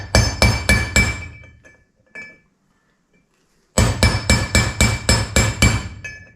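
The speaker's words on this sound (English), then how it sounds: "we just need a decent sized chisel and a hammer with a little bit of heft to it" Hammer strikes a chisel against an old bearing race on a hub, giving close, sharp metallic clinks in quick even bursts of about four, a pause with a single tap, then a longer run of about eight ringing blows.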